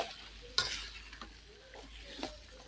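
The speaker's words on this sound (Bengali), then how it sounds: "ভাজা করে কষাবো আগে।" Chicken meat frying and being stirred in a pan during village cooking, with a steady sizzle and a couple of sharp spatula scrapes against the pan, close and alone.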